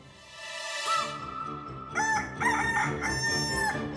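Hen and rooster heard in a dramatized folk tale scene: a rooster crows with long harmonic calls over a busy background, with clucking-like fowl sounds, fairly close and loud throughout.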